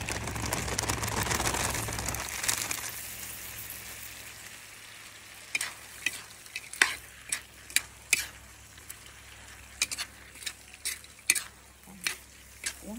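Meat and vegetables fry in a pan with a soft steady sizzle, then a spatula scrapes and clacks against the pan in irregular sharp strokes, close and moderately quiet with no talk.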